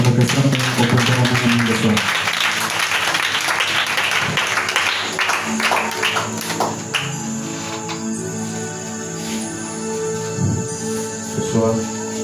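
A church congregation applauds and cheers for Jesus, dense loud clapping and shouts that thin into scattered claps and taps under a sustained musical tone and voices.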